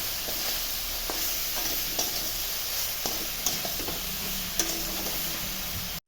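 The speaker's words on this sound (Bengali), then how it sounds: "সোয়াবিনগুলো ভেজে নিতে হবে" Soybeans fry in oil in a wok with a steady, close sizzle, broken by scattered ticks and scrapes from stirring throughout.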